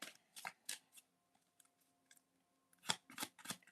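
Tarot cards being shuffled and drawn by hand, quiet and close, with clusters of crisp riffling flutters at the start and end and soft isolated card slides in between.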